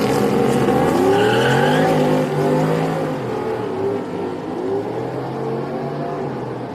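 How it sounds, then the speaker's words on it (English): A turbo Dodge drag car spins its wheels without traction at a Houston raceway street night, a loud revving engine wavering in pitch that fades after a couple of seconds into a lower, distant rumble. "That turbo Dodge was not having any traction."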